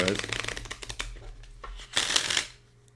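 Someone shuffles a stiff Lo Scarabeo tarot deck, making fast, riffling card flutters close up. Bursts of shuffling come in waves with a pause between, mixed with some talking.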